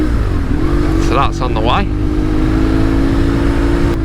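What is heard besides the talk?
BMW R 1150 GS Adventure motorcycle engine with aftermarket exhaust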